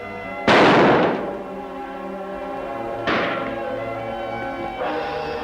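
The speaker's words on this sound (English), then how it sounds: "Shots come from that direction, Kimasabi." Three gunshots ring out in a forest, the first loud and close with a long echoing decay, followed by two fainter, more distant shots a few seconds apart.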